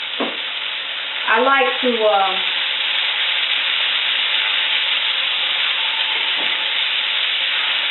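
Diced food sizzling in a hot skillet as it is stirred, a steady close frying hiss throughout, with a short spoken phrase near the start.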